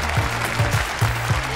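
Brief, scattered applause on a television variety show set: about five soft, irregular claps close by over a low background hum, with no voices.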